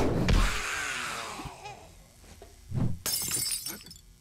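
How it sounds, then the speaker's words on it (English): Glass shattering in the survival video game 7 Days to Die, a loud crash of breaking glass at the start that trails off, followed by further smashing and tinkling impacts near the end. "I guess we break the glass."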